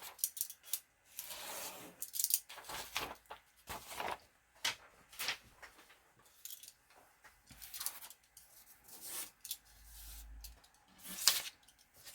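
Scissors snip through a folded sheet of paper in quiet, irregular strokes, crisp and close, with rustling and handling noises between the cuts and no talking.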